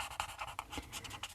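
A pen scratches across paper in short, quick strokes while colouring flowers, close and faint.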